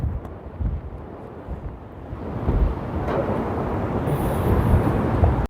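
Strong wind buffets the microphone atop a hilltop fort on a rainy, blustery day, a continuous low rumbling roar that swells and gusts throughout, with no voices.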